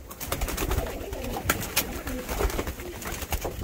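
Pigeons coo repeatedly inside a coop, soft throaty calls close by against rustling and flapping, with occasional quiet voices.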